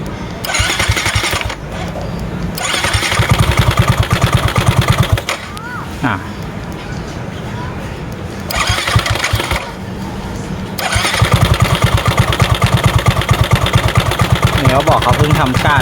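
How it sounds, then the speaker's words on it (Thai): An older Yamaha NMAX motor scooter engine runs close by, revving unevenly and dropping back to a rough idle, with a few brief pauses between bursts, before stalling. "แล้วเราก็มาสตาร์ทให้ดู ฟังเสียงเครื่องนะครับ"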